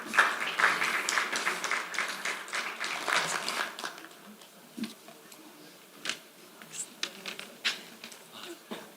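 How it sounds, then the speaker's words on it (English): Audience applause at an exercise oncology conference, a burst of clapping from a room of people that is strongest at first, then thins into scattered, quieter claps toward the end. "Please give him a round of applause."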